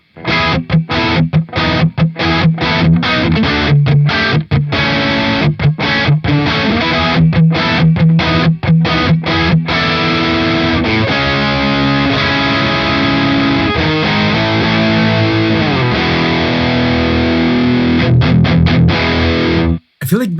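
Heavily distorted electric guitar played through the APFX Primo amp simulator on a bridge humbucker with gain pushed all the way up: loud, saturated riffs with sharp palm-muted stops early on, then sustained ringing chords, alone without talk.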